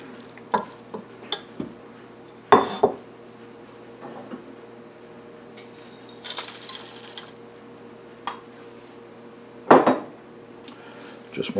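Spoon scraping and knocking against a bowl while apples and walnuts are folded into cake batter, with scattered clinks and a few louder clatters over a quiet background.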